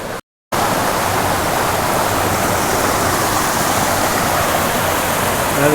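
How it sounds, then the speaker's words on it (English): A small waterfall near a creek in the Colombian countryside around Gambita gives a steady, loud, full rush of falling water after a very brief gap at the start. "Another nice little waterfall."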